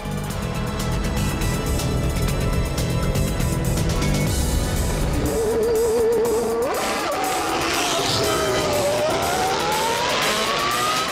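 A Mercedes-AMG race car on a circuit revs loudly and pulls away, its engine note rising and shifting through gears with a sharp squeal of tires, continuous and close with no talk.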